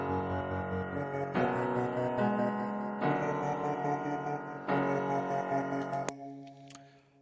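A beat melody plays, layered with a radio-preset sound and a stutter effect: a sustained synth line that restarts in clear chopped sections every second or so at a moderate level, ending with a brief sharp blip. No one speaks.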